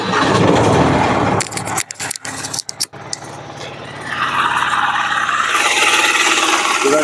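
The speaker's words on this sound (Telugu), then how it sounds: "సరే, వెహికల్ సౌండ్ విందామా ఫ్రెండ్స్." A Mahindra Supro Excel mini truck with about 10,461 km on it starts up, sputtering and cranking with short dropouts before settling into a steady, close idle rumble.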